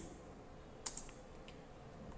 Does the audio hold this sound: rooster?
no